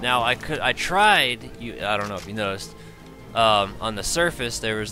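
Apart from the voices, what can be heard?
None of the usual background noises is heard.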